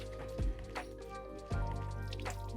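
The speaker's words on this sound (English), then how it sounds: "I'm going to squeeze that water out." Water squeezed by hand out of a freshly wetted wig, giving two short squishy, dripping bursts over steady background music.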